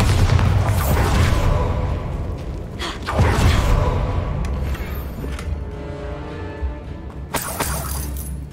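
Bombarda explosion spell from Hogwarts Legacy, heard as loud game-audio blasts with a shattering crack near the start, a heavy boom around the middle and another sharp burst near the end, over a continuous rumbling backdrop.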